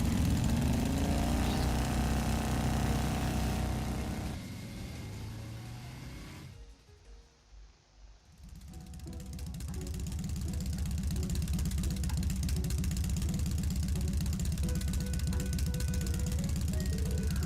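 Orbal bike engine from the video game Trails of Cold Steel, a loud steady motor drone while riding that drops away briefly into near silence, then returns at full strength with a sustained revving hum.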